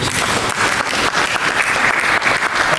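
A church congregation applauds during a sermon, with dense, loud, sustained clapping filling the room without pause.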